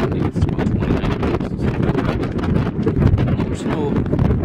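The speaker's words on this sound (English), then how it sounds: "It is windy." Wind blows outdoors during a snowstorm at about 29 degrees, a loud, continuous rumbling roar buffeting the microphone with gusty rustle and no pauses.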